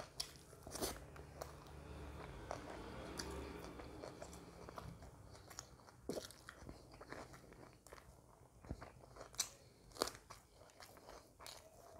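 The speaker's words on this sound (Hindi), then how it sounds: "go for the big bite" Close, loud crunching from a big bite of chicken chap with raw onion, followed by steady chewing and a few more crisp crunches, with no talking.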